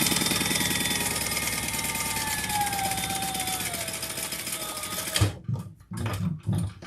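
A sewing machine runs steadily for about five seconds, a fast even mechanical whir with a faint rising whine, then stops abruptly, followed by a few short handling noises and soft bursts of sound.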